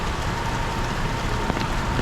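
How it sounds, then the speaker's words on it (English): Heavy rain pours steadily onto a city street during a sudden downpour, a dense, constant hiss with no breaks, with faint traffic in the background. "And sure enough, we have a big let out of rain here."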